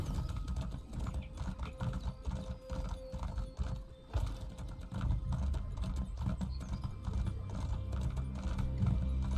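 Steady clip-clop of horse hooves in the Elder Scrolls Online video game, a continuous rapid rhythm under game music and ambient noise, with a faint neigh.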